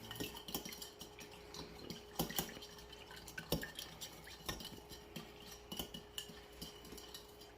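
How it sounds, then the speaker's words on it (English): A utensil stirs minced garlic into honey garlic sauce in a small cup, with close, irregular clinks and scrapes against the cup's sides and no talking. "We're going to mix that up real good."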